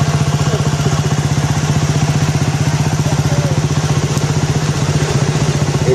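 A motorcycle engine idles close by with a loud, steady, rapid mechanical chug and light clatter, running alone without talk.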